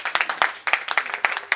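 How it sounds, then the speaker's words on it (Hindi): Brief, close clapping from a small group applauding in support of the government passing the women's reservation bill, with distinct, uneven individual claps. "तालियां सरकार के समर्थन के लिए कि बिल पास करा दिया।"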